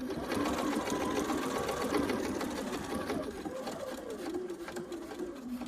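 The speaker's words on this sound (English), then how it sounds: "I'm going to sew just to here, and then I'm going to, you know, back stitch and cut it off" A sewing machine stitches binding onto a fabric potholder, its fast, even motor hum and needle chatter running loud and close without a break.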